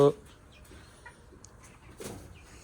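Chickens on a small poultry farm cluck faintly and sporadically in a quiet setting, with a louder burst at the very start and a few soft, scattered calls after it.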